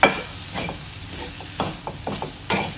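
Moist grated coconut sautéing in a pan gives a soft, steady sizzle. Several scraping stirs and clinks of a spoon against the pan break through it, and no one talks.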